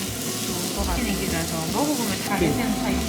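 Makchang, Korean beef intestines, sizzles on a restaurant grill with a steady, close crackle and hiss throughout, while someone talks over the cooking.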